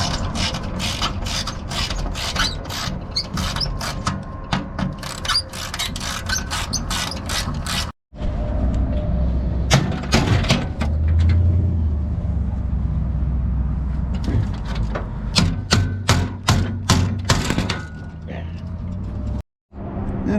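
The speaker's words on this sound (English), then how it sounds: "changing out this old worn out hinge here" Clanking and ratcheting tool work on an old, worn-out hinge being changed, with sharp metallic knocks and clicks over a steady mechanical rumble, close and loud throughout, with a voice talking over parts of it.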